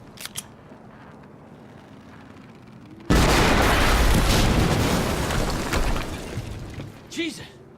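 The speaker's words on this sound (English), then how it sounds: "we just heard an explosion near the harvesting perimeter" In the video game Quantum Break, a sudden loud explosion erupts after a quiet stretch, its roaring blast and rumble sustaining for several seconds before fading.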